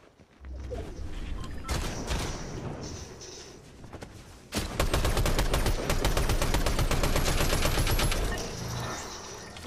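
Automatic assault rifle fire in a video game: a short burst, then a long, loud, sustained stream of rapid shots lasting several seconds before tapering off.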